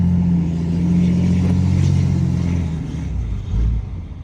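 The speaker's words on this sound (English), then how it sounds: "God, this truck's heavy, Cody." Heavy truck with a diesel engine running while driving, a loud low droning engine rumble with steady tonal hum, easing slightly and surging again near the end, with no talk.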